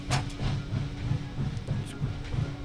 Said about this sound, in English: Felt like one of the James brothers riding around on the train just shooting people